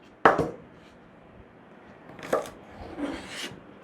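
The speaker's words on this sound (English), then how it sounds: "Chop the ends off." A knife chops through the ends of green beans on a cutting board: a sharp close thud, then a second cut about two seconds later, followed by soft rubbing and shuffling.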